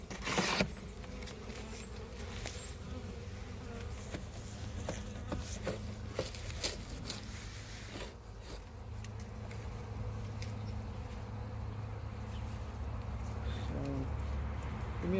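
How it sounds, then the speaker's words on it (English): Honey bees swarm and buzz from an opened hive box full of brood comb, a dense, steady drone that holds close and even throughout, with occasional sharper passes of individual bees and some human movement nearby. "it is a ton of bees in there"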